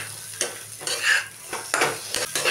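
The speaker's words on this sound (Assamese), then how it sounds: "আৰু এতিয়া ইয়াতে মই হালধি দি দিম মই হালধি দি দিলোঁ জোখমতে আপোনালোকে হালধিটো দি দিব এয়া মই লৰাই দিছোঁ অকণমান" A spoon stirs potato curry with turmeric in a frying pan, scraping and clinking against the metal in several close strokes over a soft, continuous sizzle, with no voices.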